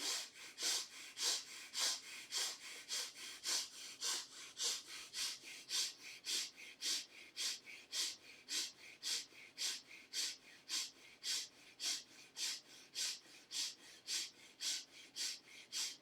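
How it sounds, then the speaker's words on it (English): Slow, even chest breathing during a meditation session, each inhale and exhale rising and falling in a steady rhythm, close and soft with no talking. "And then start breathing from the chest."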